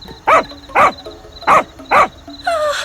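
A dog barks four times in an even rhythm, loud and close, each bark short and sharp, followed by a brief higher cry at the end.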